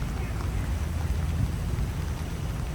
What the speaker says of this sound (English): would you like to sit out here in the rain